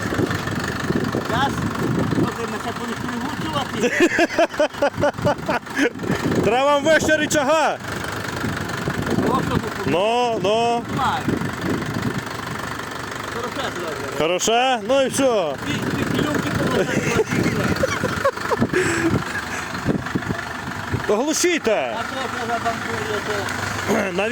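A Chinese Scout 404 tractor engine runs during a test, idling roughly and revving up and down in several surges, close and steady, with voices intermittently audible over the clatter.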